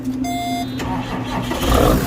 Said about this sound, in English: let's see if our tractor will start.